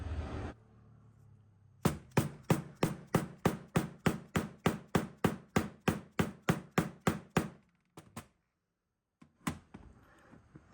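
Hammer driving a seal into a 2022 SSR125sr motorcycle fork through a socket, a fast even run of about twenty sharp metallic taps close by, then a pause and a few scattered final knocks.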